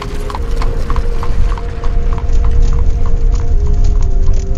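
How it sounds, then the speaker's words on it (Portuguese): A band of horses galloping in a rapid, steady clip-clop of hooves, loud and close, continuing throughout over a rumbling low background. "ele viu um bando de homens a cavalo vindo bem na sua direção"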